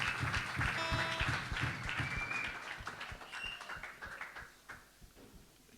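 A church congregation claps together in a rhythmic, beat-like pattern that thins out and fades toward the end, with faint sustained tones heard early on.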